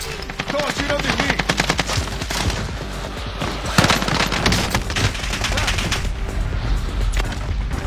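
Dense automatic gunfire in Call of Duty: Warzone, rapid sustained bursts of machine-gun fire with occasional heavier booms, loud and continuous throughout, with speech faintly mixed in.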